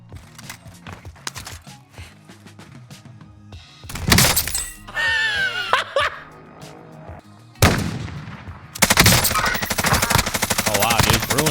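MP5 submachine gun in the game Warzone: bursts of rapid automatic fire, loud and close, mixed with shattering impacts, game effects and other weapons' fire, the heaviest clatter near the end.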